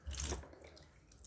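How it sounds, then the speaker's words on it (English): Water spurting briefly from a small toy baby shower, a soft hissing spray for a moment, then fading to a faint trickle, close and quiet. "if you press this, then water comes out"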